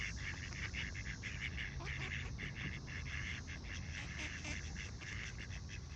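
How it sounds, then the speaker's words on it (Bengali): A flock of ducks on a lake, their quacks overlapping in a steady, busy chorus that continues throughout over a constant outdoor wash. "অনেক রকমের হাঁস এখানে আছে। এই যে আরেক ঝাঁক এসে এখন এই মাত্র পানিতে পড়লো"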